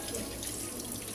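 Water streams steadily from a faucet in a shopping mall restroom, a continuous close hiss with no talking over it.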